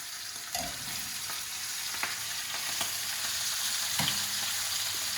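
Small pieces of fish and shrimp cook in a pot of cioppino, giving a steady soft frying sizzle with a few light clinks and stirring sounds.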